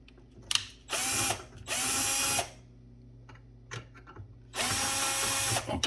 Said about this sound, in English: We'll loosen this clamp up.